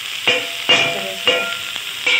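Spring onion leaves being stirred in a hot frying pan with soybean, a steady sizzle broken by four sharp scraping stir strokes at a regular rhythm, close and fairly loud with no talking.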